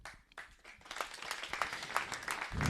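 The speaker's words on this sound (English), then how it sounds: "So, another round of applause." A crowd applauding at a Sunday church service, the clapping starting sparse and building into dense, sustained applause that grows louder toward the end.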